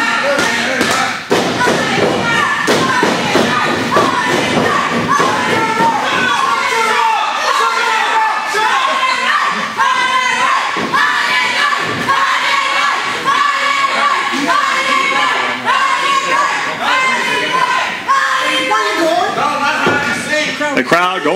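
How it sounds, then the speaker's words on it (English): Crowd at a youth camp wrestling match cheering and shouting loudly and continuously, with thumps from the ring and a commentator talking over the noise. "The crowd going bananas here."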